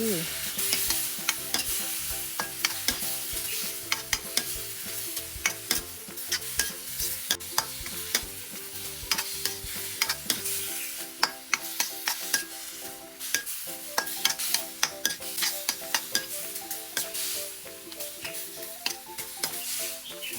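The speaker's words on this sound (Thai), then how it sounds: "ใส่ใบกะเพราลงไป ผัดคลุกเคล้าให้เข้ากันดี" Shrimp stir-fried with holy basil in a pan over high heat, giving a steady close sizzle with frequent scraping stir strokes and clinks throughout, no talking.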